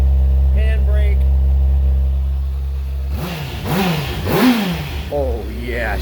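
A 2013 Honda CBR600RR 600cc supersport engine idles steadily, then revs up in several sharp rising and falling bursts, close and loud, with people talking over it.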